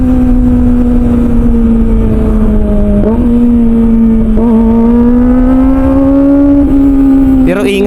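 Big bike motorcycle accelerating at speed on the way to work, engine loud and close with a rising whine broken by quick gear shifts, a voice speaking over it near the end.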